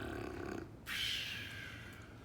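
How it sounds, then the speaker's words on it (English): A sleeping dragon princess snores, with a rough, throaty inhale followed by a long, wheezy, rumbling exhale, close up and exaggerated in a storybook reading. "The sleeping dragon princess began to snore."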